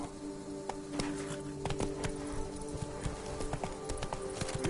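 Roach, the horse in The Witcher 3, walks along with a steady, rhythmic clip-clop of hooves, fairly close and moderately quiet, with brief game sounds mixed in.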